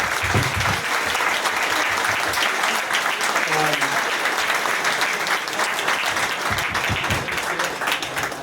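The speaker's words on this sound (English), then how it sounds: "can we get a round of applause for Alex Ferguson's wife, Lady Cathy, that passed away last year" A large audience at a football interview event applauds steadily and loudly for the whole stretch, a dense continuous roar of clapping with a few faint voices underneath.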